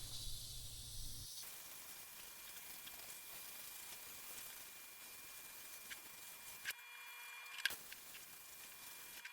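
A Bissell Steam Shot handheld steam cleaner blows steady hissing steam onto tile grout while its bristles scrub along the lines, a continuous close hiss broken by a brief pause and a couple of small clicks near the end.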